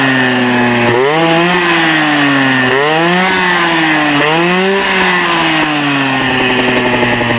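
Tuned moped engine with a 15 carburettor revving hard, a loud nasal buzzing whine that climbs and dips in pitch through several rises over a few seconds, close and continuous with no voices.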